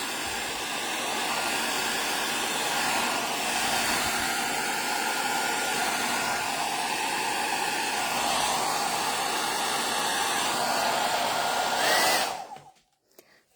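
A hair dryer blows air steadily and loudly across wet acrylic pour paint to spread leaf shapes, a continuous close whooshing hiss that cuts off near the end.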